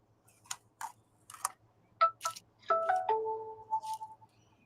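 A phone sounds during a live hobby painting stream. Several short clicks or taps come first, then a brief electronic tone with two notes holding for over a second. It is clear and nearby, with no talking over it.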